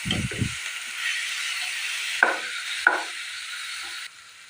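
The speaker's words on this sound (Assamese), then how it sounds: "এই মছলাখিনি, কেঁচা মছলাখিনি মই ভালদৰে ভাজি ল'লোঁ।" Raw ground spice paste of ginger, garlic, dried chili and onion frying over high gas flame, a steady close sizzle with a few sharp stirring scrapes, opening with a couple of low thuds.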